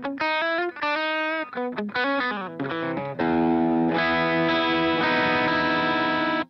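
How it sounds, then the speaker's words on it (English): Electric guitar run through a Hotone Binary amp simulator with mild overdrive, giving an edge-of-breakup tone: a few picked notes and chords, then a sustained strummed chord that rings out, loud and close, with no talking. "set up the binary to have a mild overdrive, it would sound like this."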